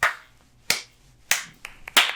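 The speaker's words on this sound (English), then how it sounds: "Slow fucking clap for you." A sarcastic slow clap: four single hand claps, sharp and close, spaced out at an even, deliberate pace with quiet between them.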